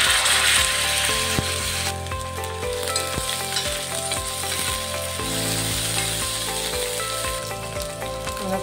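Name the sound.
frying green chilies and ginger garlic paste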